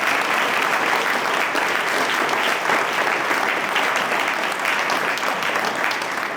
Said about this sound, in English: So let's give them one more round of applause, please.